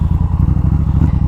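A carbureted 1990s motorcycle engine idles close by, a steady low throbbing pulse with loose mechanical clatter riding on top, even and unbroken throughout.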